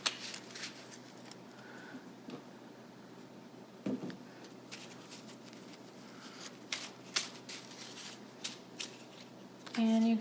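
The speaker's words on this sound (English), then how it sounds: "And I will pull a mermaid relationship card here." Oracle cards shuffled by hand ahead of a mermaid relationship card pull, a steady run of soft riffling and flicking across several seconds, close and fairly quiet, with a brief louder handling sound near the end.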